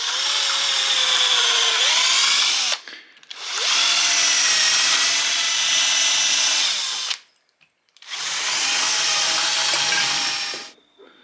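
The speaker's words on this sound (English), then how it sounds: "the easiest is to just try to drill out the rubber in between two metal parts" A power drill bores out the rubber between the metal sleeves of worn car suspension bushings during roadside maintenance, whining loudly in three long sustained bursts separated by brief pauses, its pitch shifting as the bit bites.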